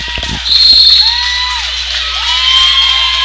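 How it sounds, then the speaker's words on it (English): Spectators at a men's Bible college basketball game cheer and shout loudly from the stands, a sustained burst of whoops and high voices with a brief swell near the start, plus faint court squeaks. "the Lady Warriors over there cheering their friends out there on the court"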